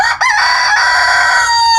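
A White Leghorn rooster crows loudly and close by in a coop, one long sustained cock-a-doodle-doo with a brief break near the start, filling the whole moment.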